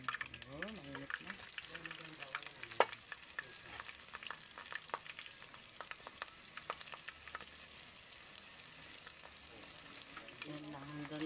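Food fries in heated cooking oil with a faint, continuous sizzle and scattered pops, quiet and steady, while a voice murmurs faintly in the background.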